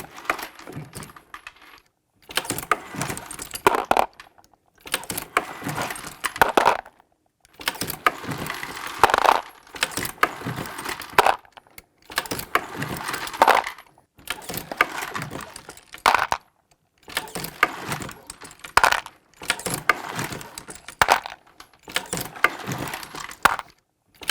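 A Lyman progressive reloading press with Pro dies cycles cartridges in repeated bursts of clanking, ratcheting mechanical strokes separated by short pauses, close and crisp with no talking.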